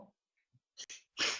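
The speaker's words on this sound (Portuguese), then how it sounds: "Bateu aquele espirrinho." One small sneeze, a short sharp burst of breath after a quick inhale, close and clear with quiet pauses around it.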